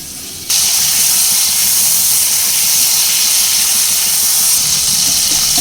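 Prawns dropped into hot mustard oil with salt and turmeric, a sudden loud burst of hissing sizzle that starts abruptly and holds steady and close, with no talking.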